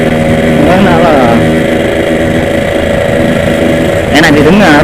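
Yamaha RX-King two-stroke motorcycle engine running with a steady, loud exhaust drone throughout, a brief rev rising near the end.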